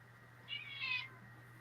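A cat gives one soft, rising meow at moderate distance indoors, heard over a steady low electrical hum with no voices.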